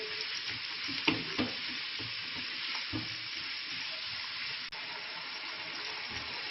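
Chicken and sausage fry in a pan for egg fried rice, giving a steady loud sizzle throughout with a few clinks and stirring scrapes.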